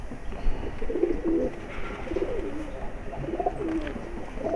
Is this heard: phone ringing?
no